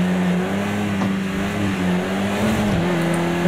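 A Caterham 620R race car engine in the video game Project CARS 2 drones loudly and continuously, its pitch holding steady with slight rises and dips as the car is driven.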